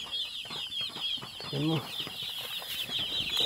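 Small chicks peep in a dense, high chorus with some wing fluttering, loud and close, while a person speaks over them.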